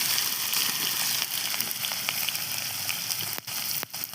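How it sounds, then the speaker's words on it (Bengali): Potatoes frying in hot oil, a close, busy crackling sizzle with sharp pops and a couple of clicking stirs near the end. "হালকা করে আলুগুলো ভেজে নিতে হবে।"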